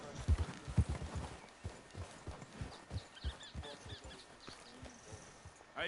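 Horse hooves clip-clopping at a steady riding rhythm in Red Dead Redemption 2, close and fairly loud, with faint ambient game sound behind and no talking.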